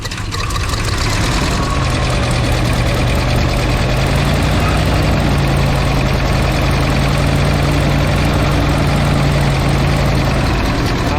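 A 7.4L V8 engine in a 1994 Chevy Silverado 2500 with an exhaust problem idles close by with a steady, rough low rumble and a constant drone, running unchanged for about eleven seconds.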